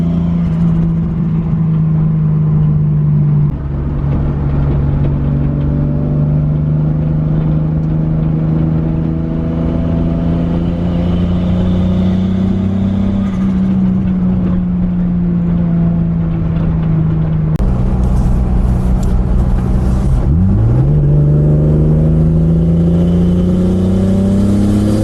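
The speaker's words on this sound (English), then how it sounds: "So let the car brake with the engine." Toyota Supra with a freshly rebuilt engine coasts in gear under engine braking, a steady loud drone whose pitch slowly falls and rises as the revs change, with a brief shift and whine near the end.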